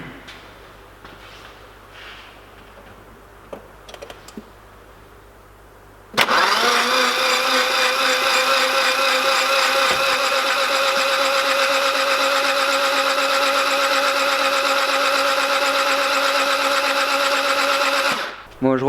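An Audi Cabriolet diesel engine is cranked on the starter without firing, to prime the oil. A quiet garage hum gives way about a third of the way in to a loud, steady, whirring crank that runs for roughly twelve seconds, then cuts off abruptly.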